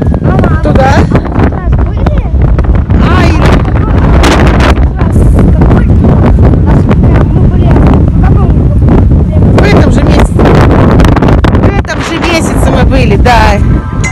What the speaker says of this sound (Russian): Слышно меня или нет, потому что такой, блин, ветер